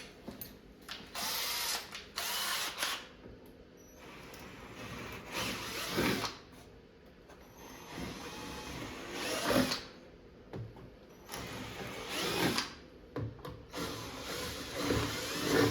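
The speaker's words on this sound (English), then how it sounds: "So now we're gonna drill it from the top down." An electric drill bores a 1/4-inch hole from the top down into a Wizard of Wor arcade cabinet, in several close, loud bursts of whirring with short pauses between them.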